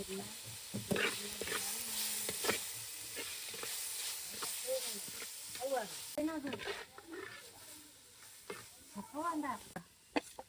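Tomatoes and green chillies sizzle in a pan with a constant frying hiss while a spoon stirs and scrapes repeatedly, and a voice talks intermittently over the cooking.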